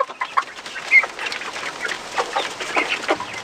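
Backyard homestead chickens cluck and chatter around a hanging feeder attached to the coop, with a busy, overlapping run of short calls that stays close and fairly loud throughout.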